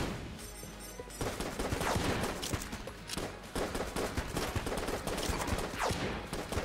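Rapid video-game gunfire from Enter the Gungeon, a dense continuous fusillade of fast-firing shots with sharp bursts layered over game effects, loud and sustained throughout.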